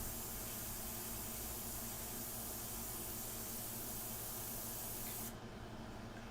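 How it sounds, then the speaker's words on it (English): Airbrush spraying India ink for a portrait, a continuous soft, even hiss of air and ink that steadies for several seconds and then dulls slightly near the end, with no talk. "And I'm just pumping that trigger"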